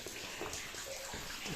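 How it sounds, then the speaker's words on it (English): Water drips from the ceiling of Browns Folly Mine into a clear, still underground pool, giving a steady patter of small splashes and trickling that carries on without a break at moderate volume. "that's water dripping out of the ceiling going into it"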